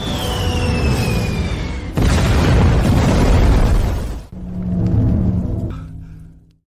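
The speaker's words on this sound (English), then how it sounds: "One last missile to end you." A missile explodes in a huge, loud blast, followed by a long rolling rumble and a second heavy boom that trails off into debris and fading noise.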